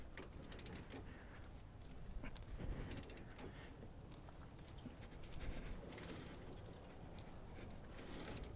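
Tool mechanism cranking down on a ball joint press fitted to a 1992–2000 GM 4WD K truck's suspension, a steady, close mechanical grind and creak with small ratcheting clicks and slightly louder surges, no talking.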